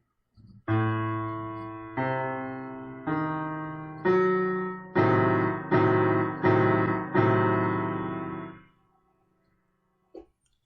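A tense, dark diminished seventh chord is played on a keyboard, struck repeatedly in even blocks before ringing out and cutting off.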